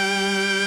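A harsh, buzzy synth melody for a lo-fi track, with steady sustained tones full of bright harmonics, played alone at a constant loud level.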